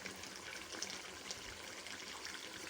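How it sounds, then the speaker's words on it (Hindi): Water poured into a pan of tomato chicken masala with okra to make gravy, a steady soft trickle and splash heard close and fairly quiet, with no talking. "तो इसमें मैं थोड़ा सा पानी जो है ऐड करूँगी, ताकि इसकी अच्छी सी ग्रेवी बन जाए।"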